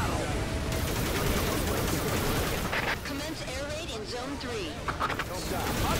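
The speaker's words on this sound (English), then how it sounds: "All right, some more explosions?" Dense rattling gunfire and booming blasts from the video game Earth Defense Force 4.1 roll on continuously, with a voice briefly talking over the chaotic battle noise.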